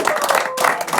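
A burst of loud, dense audience clapping after a magician's card trick, continuing without a break across the short moment and close to the listener.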